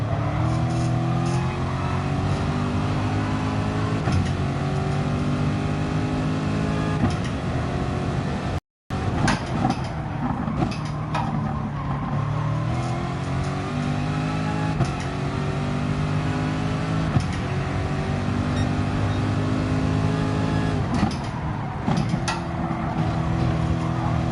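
A race car lapping Bathurst in the Gran Turismo Sport video game, its engine droning loudly and continuously, climbing and falling in pitch through gear changes, with a very brief dropout partway through.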